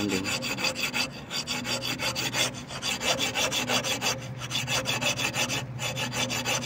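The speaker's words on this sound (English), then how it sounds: "We already start grinding this alternator side, guys." A grinder works over an alternator housing in a steady rough rasping scrape that keeps repeating in even strokes, close and loud throughout, with no talking.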